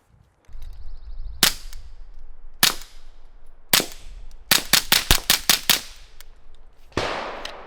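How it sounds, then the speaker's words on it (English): Suppressed .22 shots from a Ruger 10/22 rifle fitted with a House TUA 22 can, about a dozen sharp cracks, first spaced apart, then a fast string of rapid follow-up shots, loud and close over faint background hiss. "This is our House TUA 22 can on a Ruger 1022."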